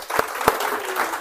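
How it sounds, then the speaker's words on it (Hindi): A classroom audience claps at the end of a lecture, a short burst with two sharp claps standing out over a softer patter. "आपके लिए जोरदार तालियां।"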